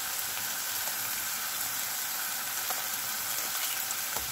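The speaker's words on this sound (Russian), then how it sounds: "Могу жарить яичницу." Steady, crackling sizzle of eggs frying in a hot pan, a dense hiss with small pops, close and continuous with no talking.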